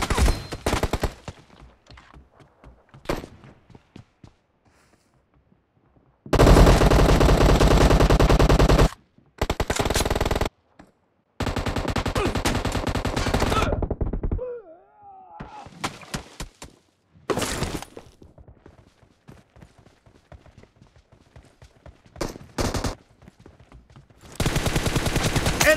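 Video game gunfire: long loud bursts of automatic fire broken by pauses, plus scattered single shots, impacts and clattering effects across the stretch, with no talk.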